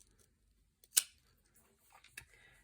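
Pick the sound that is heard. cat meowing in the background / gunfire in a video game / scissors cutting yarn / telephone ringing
scissors cutting yarn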